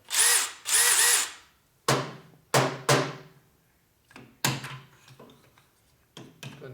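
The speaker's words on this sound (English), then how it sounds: "So we have to put a drill in here and cut out all the nasty threads it doesn't like." A power drill cuts out damaged threads in a Harley FLHT Twin Cam transmission, first with two loud whirring runs and then with a series of short bursts and clunks in a garage.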